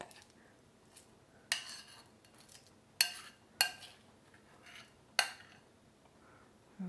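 Cucumber with cream cheese is spooned into a rough-textured serving bowl, with a handful of faint, sharp clinks and taps of utensil against dish spaced apart in a quiet room.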